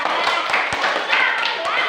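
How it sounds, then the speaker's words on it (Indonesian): Classroom of university students clapping together as a group, a dense patter of hand claps with a few sharper taps standing out, alongside voices. "Tepuk tangan yuk"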